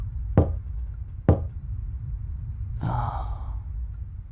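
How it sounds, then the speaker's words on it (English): Two sharp, separate knocks on a chamber door, spaced about a second apart, then a soft breathy sigh-like sound; close and fairly quiet, with no talking. "suddenly there came a tapping, as if someone gently rapping at my chamber door."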